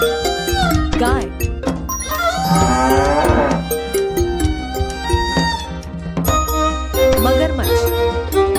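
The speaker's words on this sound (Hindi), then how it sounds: "गाय" A cow moos in a long, loud, drawn-out call among cartoon-style animal sounds, with chiming music and sound effects around it.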